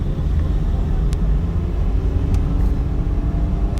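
A car drives through traffic, a steady low engine and road rumble filling the cabin throughout with a few faint brief clicks and no voices.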